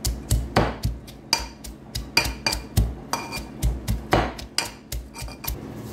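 Ginger, green chili, coconut and garlic crushed together in a pot for Thalassery-style payar thoran, a steady series of close, rhythmic pounding knocks and scrapes with metallic clatter, no talking.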